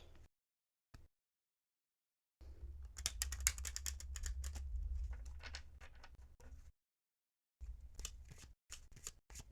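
Lenormand cards being overhand shuffled by hand in quick rustling bursts, separated by short silent pauses, close and clear.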